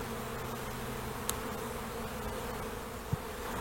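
Honeybees buzzing in an opened, overwintered hive during a spring colony inspection, a dense continuous drone close by with a couple of brief clicks.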